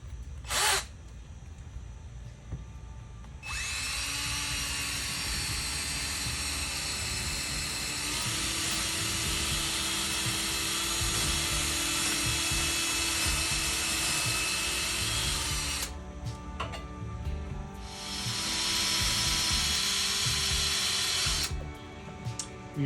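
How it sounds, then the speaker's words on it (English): An electric drill bores starter holes in wood for a spin art table, whining loud and close in long sustained bursts with brief pauses between them as the bit size is increased. "We are slowly increasing the drill bit size just to make sure that we get the hole perfect."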